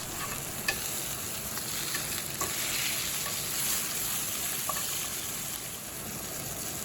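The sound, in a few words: steak with mac and cheese rub frying in hot oil in cast iron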